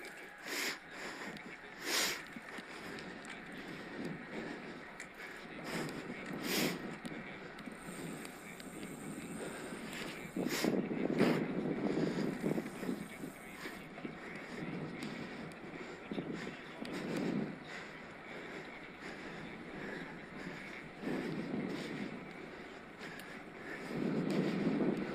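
Headwind buffets the microphone while riding a Scott Addict RC eRide e-bike with a Mahle X20 motor, uneven gusty rumbling that swells and fades in bursts, with occasional breathing and sniffing close by.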